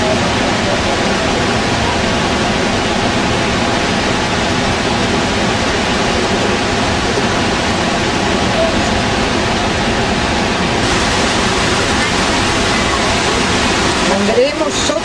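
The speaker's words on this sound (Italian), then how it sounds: "Andremo sotto questa cascata." A loud waterfall at Iguazu Falls, on the Brazilian side, roars in a dense, unbroken rush of falling water for the whole stretch.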